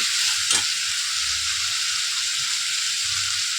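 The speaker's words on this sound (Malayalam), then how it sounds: "അപ്പോൾ അതാ നന്നായിട്ട് വഴറ്റി കൊടുക്കുക" Masala sautéing for pasta in a pan, with salt, ginger, garlic and green chilli nearby, gives a steady close sizzle with a few soft scraping stirs and one brief sharper clatter near the start.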